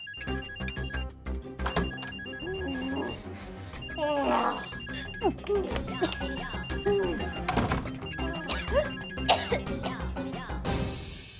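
A telephone bell rings repeatedly in a steady ringing pattern while the call goes unanswered, under continual voices and background music.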